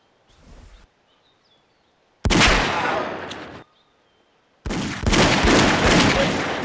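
Gunfire in The X Files FMV video game erupts in two loud, sustained bursts after a short faint one, each separated by near-silence.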